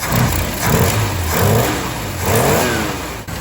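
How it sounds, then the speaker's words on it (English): A 1973 Plymouth Scamp engine with an exhaust leak revs in three or four rising surges, loud and close, with a rough mid-range drone between pulses and no talking. "I don't think it'll surprise anyone to learn there's an exhaust leak up here."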